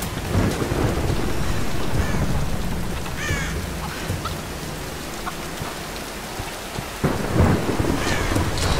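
A thunderstorm with heavy rain rolls through a Tomb Raider game scene, with steady rain hiss, deep thunder rumbles and a few faint bird-like calls.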